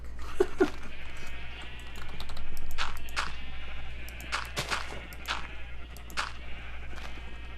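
Sheep in the game Minecraft bleat in short repeated calls, mixed with rapid keyboard clicking and a low constant hum.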